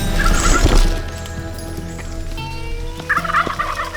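Wild turkeys gobble during a hunt, rapid rattling calls bursting out at the start and again near the end, fairly clear over a low background rumble.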